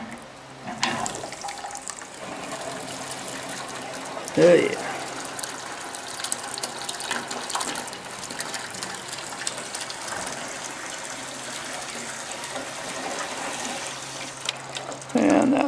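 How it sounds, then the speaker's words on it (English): Hot water rushes through PEX plumbing distribution lines in a house under construction, a steady moderate flow with a few clunks and knocks, while someone briefly speaks. "Alright, now I'm going to move on over to the hot water. Alrighty, here comes the hot water."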